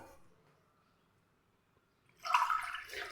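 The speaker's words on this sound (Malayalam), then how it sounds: "അതിലേക്ക് നമ്മൾ രണ്ട് ഗ്ലാസ് വെള്ളം ഒഴിച്ചു കൊടുക്കാം" Water is poured into a bowl for a homemade hair remedy: after near silence, a short, fairly close splashing pour fills the last second.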